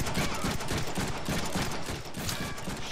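Rapid gunfire from the Deadpool video game on PS3, a dense continuous fusillade of shots filling the whole stretch at steady loudness with no talk over it.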